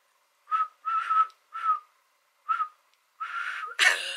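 Someone whistles a short series of separate notes, pausing between them, ending in a breathy, airy blow; close and clear with no talking.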